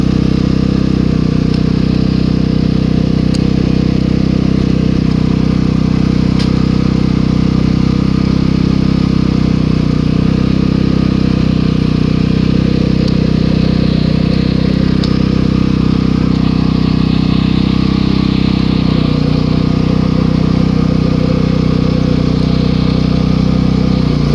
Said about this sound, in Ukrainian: бензинка вже ось працює рівненько